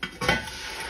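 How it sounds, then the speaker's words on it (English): Garlic sizzles in oil in a big pot, with a steady close frying hiss and a couple of soft stirring scrapes near the start. "These are sizzling and it's time to put in my tomatoes."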